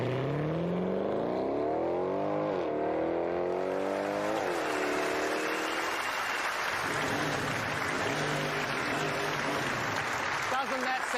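A car engine revs hard and climbs through several gears, each shift dropping the pitch before it rises again, loud and close, settling into a fast cruising roar.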